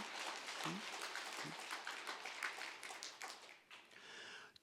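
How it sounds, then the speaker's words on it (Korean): A church congregation at a Korean Methodist worship service applauds, a faint, dense spread of clapping that continues for a few seconds and thins out toward the end. "이런 때 박수 한번 치면 좋습니다."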